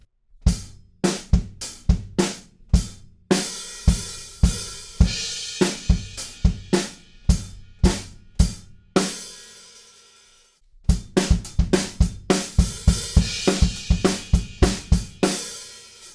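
A drum kit plays the verse beat of a song, punchy kicks and crisp snare and cymbal hits in a driving steady pattern, briefly pausing midway before resuming.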